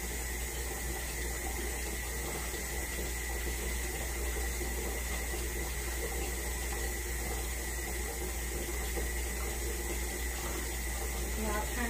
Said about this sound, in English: Now turn off the faucet water.